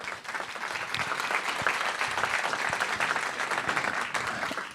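Sustained applause from an audience at a regional circular economy conference in Normandy, dense steady clapping filling the room for nearly five seconds without a break.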